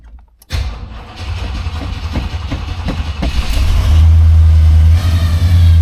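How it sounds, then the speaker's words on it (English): A 1970 Buick Electra 225 with its 455 V8 cold-starting after sitting since the weekend: a short crank, then the engine catches and settles into a loud, rough, rising idle that swells to a steady low rumble. "That's a cold start."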